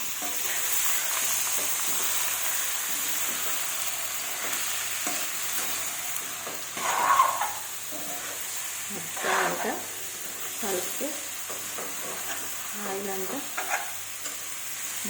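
Chicken curry fries in a pan while being stirred, a steady broad sizzle running throughout with occasional louder scrapes and stirring bursts; a voice is faintly present at times.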